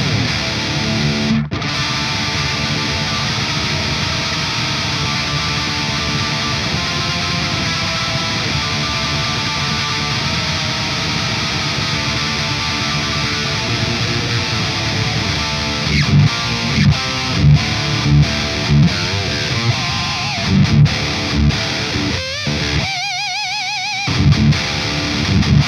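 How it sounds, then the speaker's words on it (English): Distorted electric guitar from a Sully Conspiracy Series Stardust guitar, played with heavy palm-muted chugs through an amp with just enough treble, a dense loud riff throughout with sharper stabs and brief stops near the end. "just massive palm mute tones, just enough treble to kind of help cut through."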